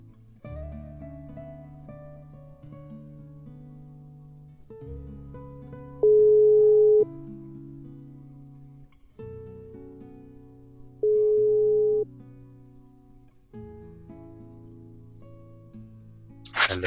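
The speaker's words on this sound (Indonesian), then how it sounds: "kita telepon si Iqbal." A telephone call rings out over the line: sustained electronic tones with two short, louder beeps in between, heard alone with no talking.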